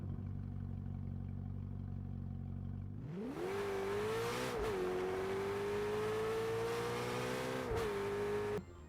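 A Corvette in Fortnite idles with a low steady rumble, then revs up into a loud, sustained engine whine that dips briefly twice as it shifts, close and alone without talk.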